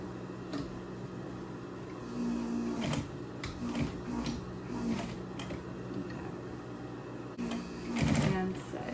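A home sewing machine stitches Christmas stockings, running in short bursts of rapid mechanical whirring and clicking at close range, with soft handling sounds between runs.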